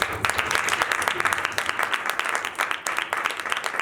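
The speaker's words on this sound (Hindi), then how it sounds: "तालियां जा रहे हैं।" Close, energetic applause from a church congregation, a dense, continuous patter of clapping throughout, with some crowd voices mixed in.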